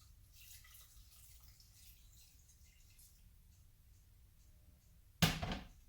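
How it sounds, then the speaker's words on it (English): Near silence, then two cups of water suddenly pour into a pot for instant ramen with a short splashing gush. "And then you add your 2 cups of water."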